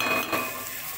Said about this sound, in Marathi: मिरची आणि कांदा चांगला लालसर भाजायचा.